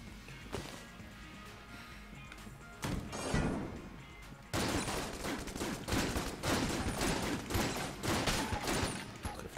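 Bursts of gunfire and crashing impacts from the video game Enter the Gungeon come in dense clusters, sparse at first and then a continuous barrage of shots, fairly faint overall.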